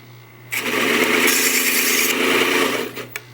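A bench belt sander fitted with a benchmate adaptor sands a part, a steady abrasive whir over a constant motor hum that starts abruptly, runs about two and a half seconds, then stops.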